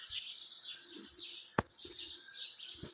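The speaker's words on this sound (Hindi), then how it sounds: "माशाल्लाह से परिंदों की चहचहाने की आवाज़ें, कितना प्यारा लगता है व्यू सुबह का।" Small birds chirp and tweet repeatedly in a village at early morning, a steady chorus of bright calls with one sharp nearby knock midway and faint low rumbles underneath.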